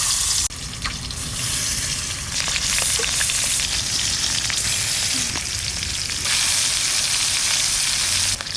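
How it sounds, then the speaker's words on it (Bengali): Fish pieces frying in hot oil for a Bengali fish curry with kochu loti, a loud, dense, continuous sizzle close up, with faint crackles and spatters throughout. "মাছ কটা লাল করে ভেজে নিতে"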